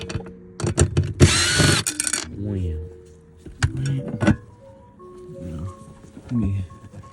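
A ratchet works 10mm bolts loose on a BMW E60 fuel pump, giving short bursts of clicking and rattling between stretches of someone talking nearby.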